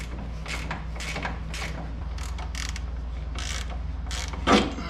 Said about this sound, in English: our 17mm socket wrench and putting it on the front side here